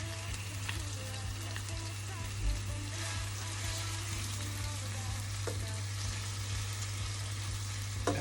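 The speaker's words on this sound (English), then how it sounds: "That's searing nicely there." Meat sears in a hot pot, a close, continuous crackling sizzle with a faint low hum underneath and occasional small pops, and no talk over it.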